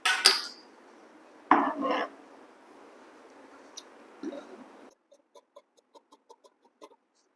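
Scissors snip blouse fabric along a marked line. A string of small, faint, crisp clicks comes near the end, after some earlier clatter and handling noise, with no talk.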